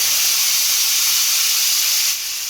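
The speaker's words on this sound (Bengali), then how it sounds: "এই মশলাটাকে আমি তেলের মধ্যে দিয়ে দেব" Spice paste dropped into hot oil, giving a loud, steady, close hiss of sizzling that eases slightly at the very end.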